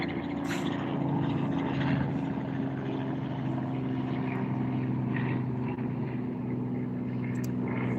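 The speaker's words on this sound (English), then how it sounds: "Hey, helicopters and stuff are flying now." Helicopters flying overhead, heard as a steady, loud droning rotor and engine rumble that holds evenly throughout with no talking.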